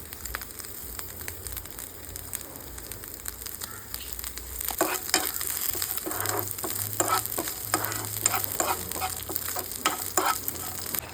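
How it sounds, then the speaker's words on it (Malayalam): Steady sizzle with crackling pops as coconut pieces fry in coconut oil, stirred now and then, growing louder and busier partway through; no voices. "വെളിച്ചെണ്ണ ഒഴിച്ച് തേങ്ങാ കൊത്ത് ചേർത്ത് നന്നായിട്ടൊന്ന് മൂപ്പിച്ചെടുക്കുക"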